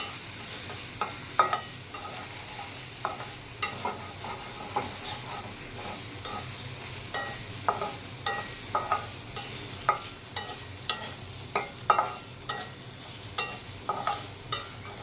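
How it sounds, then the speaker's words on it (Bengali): Onion and garlic paste sizzles steadily in a pan for a rohu fish curry, with frequent rhythmic scrapes and taps of a spoon stirring it, close by and with no voices. "এখন আরেকটু সময় ভাজতে হবে পেঁয়াজটা।"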